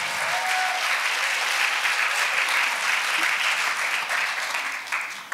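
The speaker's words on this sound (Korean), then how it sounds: "박수 좀 쳐주셔야지." A church audience at a revival gathering claps together in a dense, sustained wave of applause that holds steady and then tapers slightly at the end, loud and close, with no one speaking over it.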